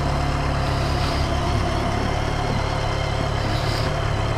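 A 2012 BMW K1300S motorcycle fitted with a Remus exhaust idles steadily, a continuous, loud, even engine rumble heard up close with no pauses and no one speaking.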